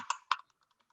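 Keystrokes on a computer keyboard while writing code: two louder clacks near the start followed by a string of faint, evenly spaced taps, close and alone with no talk.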